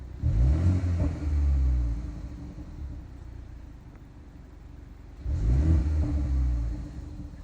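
A BMW 330i engine revs twice, a deep low rumble swelling up, easing back to idle, then rising again with a throaty exhaust burble.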